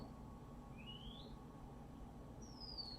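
Two thin rising chirps from a single bird outdoors, separated by a pause, faint against a steady low background hum with no talking.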